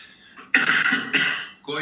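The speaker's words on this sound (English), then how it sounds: "sorry for my cough" A person coughs hard twice, loud and close, the bursts running together with throat noise during a podcast-style conversation.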